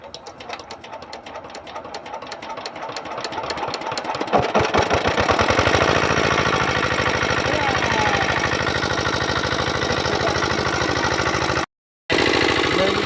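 A pump engine drains a fish pond, its rapid mechanical chatter building over the first few seconds into a loud, steady running drone, broken by one brief dropout near the end.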